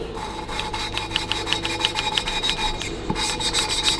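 Hand-cut 45-degree valve seat being dressed in a Harley-Davidson WLA cylinder barrel, a steady scraping, rasping rub repeated in quick even strokes, close and fairly loud, with a brief pause near the end before the strokes resume.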